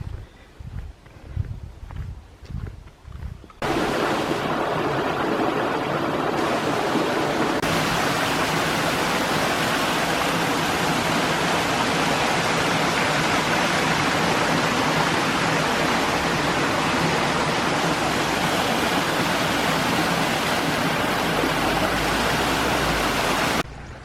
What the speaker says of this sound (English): The water from the well up above runs into this pool here.